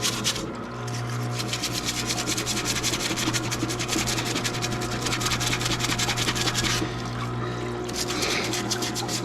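Cylinder heads from an Iroc-Z being scrubbed with a light-grip Brillo pad to remove rust stains, a continuous close abrasive rubbing with rhythmic strokes over a steady low hum, briefly pausing midway.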